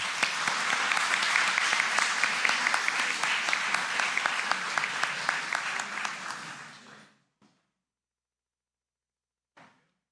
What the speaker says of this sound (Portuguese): Os nossos aplausos, minha gente.